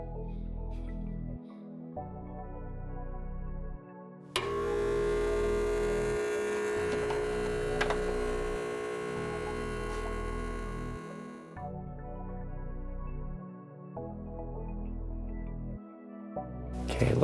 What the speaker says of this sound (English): and we'll turn on the smoke machine.